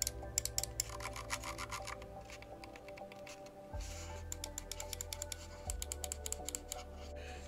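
Logitech G Pro Wireless gaming mouse buttons clicked in rapid bursts of crisp, close ticks, with pauses between runs over a low steady background hum.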